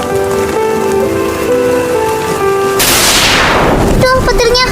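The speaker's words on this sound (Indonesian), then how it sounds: "Duh, petirnya." Thunder and rain in a stormy scene: steady loud rain under tonal music, then a sudden sharp thunder crack that decays over about a second before the music returns; a voice is heard.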